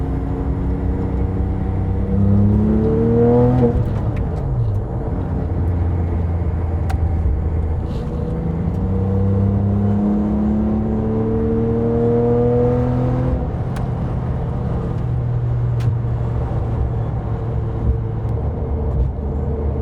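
A Porsche 997 GT3 RS flat-six engine rises and falls in pitch through several revs, a deep throaty drone that stays loud and close throughout.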